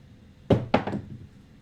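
Dice thrown onto a craps table land with two sharp, close knocks a quarter second apart, followed by a short tumbling rattle before settling.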